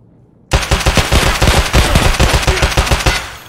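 Rapid bursts of automatic gunfire from a firefight in Escape from Tarkov on the Factory map, loud and close, with dense repeated shots over about three seconds after a short quiet lead-in.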